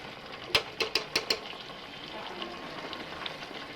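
Leaves fry in hot oil on a gas stove, with a quick cluster of five sharp pops and crackles near the start that gives way to a soft, low sizzle.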